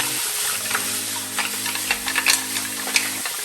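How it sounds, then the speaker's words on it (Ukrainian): Seafood and garlic sizzling in hot oil in a pan while being stirred, with a steady fry hiss broken by scraping clicks from the utensil and a low hum underneath. "Кидаємо сюди всі наші компоненти і перемішуємо"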